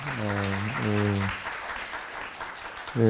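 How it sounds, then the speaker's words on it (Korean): Audience applause after a presentation at a green industry and solar energy forum. It follows a brief tonal voice or music passage and fills the middle as a steady wash of clapping, fading before the tone returns. "박수 부탁드립니다."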